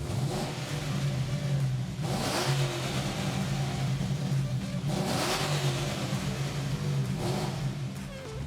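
A Chevrolet Lumina V8 engine revs hard and roars inside a tunnel, rising and falling in loud surges that echo off the enclosed walls.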